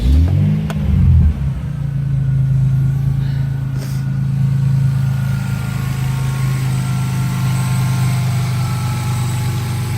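A Toyota Supra engine idles steadily with a deep, even rumble after a brief start-up burst, running close by with no voices.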